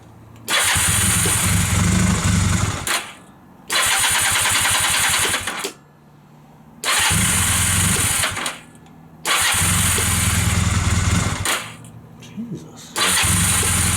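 Honda CB250 motorcycle engine cranked repeatedly, catching into loud, close running and idling in several long stretches separated by brief pauses, with a voice speaking over it.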